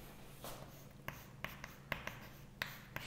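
A pen writing out a physics error calculation on paper: soft scratching strokes punctuated by several small, sharp taps, close and quiet, with no talking.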